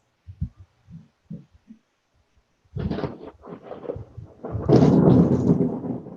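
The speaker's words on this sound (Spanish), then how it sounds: "¿dónde está tronando?" Thunder rumbles in a classroom setting: a few soft low thumps, then a long, louder rolling rumble building and swelling toward the end, with no talking over it.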